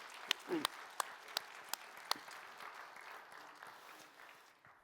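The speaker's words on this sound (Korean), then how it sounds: "이럴 때 한번 우리 어른들에게 한번 격려의 박수 해드리면 어떨까요?" A church congregation at an autumn revival service gives a short round of applause for the elders, a few sharp claps standing out over a soft, thin patter that gradually fades.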